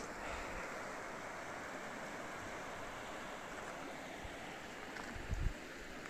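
A river flows past a mountain village, a steady broadband rush of water and wind, fairly faint, with a few low thumps near the end and no speech.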